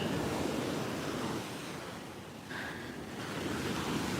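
Ocean surf rolling onto a beach in steady, continuous washes, fairly close and loud with wind buffeting the microphone, no speech.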